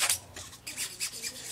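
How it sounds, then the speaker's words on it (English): Sandpaper rubbing over 3D printed plastic model parts, giving a soft ribbed scratching like a hand run over corduroy, in several short close strokes, alone without talk. "when you're sanding them, you don't get the normal sanding sound. It actually sounds a bit like you are running your hands over corduroy pants"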